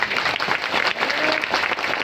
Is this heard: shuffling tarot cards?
no